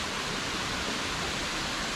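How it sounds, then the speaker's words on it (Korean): Steady, even rush of the roughly 150-metre Pam Bok waterfall in Pai, Thailand, a dense broadband roar heard from nearby at constant loudness with no voices. "이 폭포인데 150m 정도 된대요."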